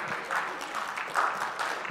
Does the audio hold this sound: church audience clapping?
yes